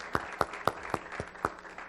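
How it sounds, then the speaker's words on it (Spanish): A short, sparse round of claps rings out in a church for the singers who just performed special songs, about six distinct claps spaced evenly, fairly faint and alone. "¿Le podemos dar un aplauso, hermanos, a los hermanos que cantaron los cantos especiales?"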